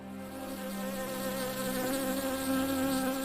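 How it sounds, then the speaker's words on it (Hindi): A housefly buzzes in a steady, close droning whine that holds without a break, loud and alone with no voices. "और ये मेरी चाय में मक्खी कहाँ से आ गई?"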